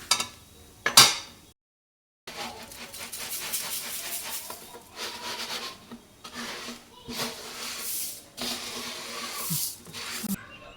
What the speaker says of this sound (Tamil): இப்போ இந்த சமயத்தில் நம்ம பொரிய உள்ள கொட்டி நல்லா வறுத்து விடலாம்